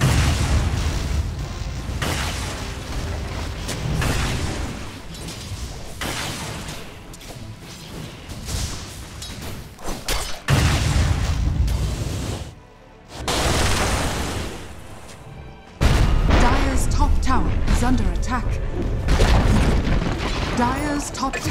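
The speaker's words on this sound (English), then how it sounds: "Dire's top tower is under attack." Explosions and booming impacts as a tower comes under attack in the Dota 2 video game, a dense, continuous roar of blasts with brief lulls and voices speaking over the combat.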